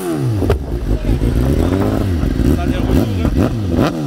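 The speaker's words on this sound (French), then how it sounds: "Mets un coup de gaz." A sport motorcycle engine revs repeatedly in loud, close throttle blips, pitch climbing and falling with each twist, while someone talks over it.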